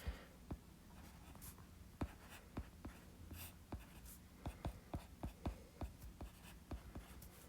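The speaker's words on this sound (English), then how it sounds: "Let me write that better." Pen or pencil writing out math by hand, a series of short, sharp scratchy strokes and taps in an irregular rhythm, close and fairly quiet with no talking.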